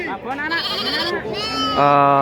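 Several goats bleating loudly and close, overlapping wavering cries one after another in a crowded goat market in Indonesia.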